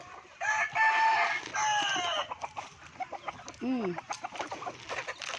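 Chickens cluck and squawk loudly nearby on a farm as they are fed, with a rooster-like crow near the start, a busy flock calling over one another.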